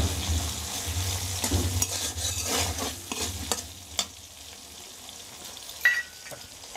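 Boiled chickpeas tumble into hot oil with lightly browned garlic and chilli, setting off a steady close sizzle with stirring scrapes and a few sharp clinks from the pan, the frying easing slightly toward the end.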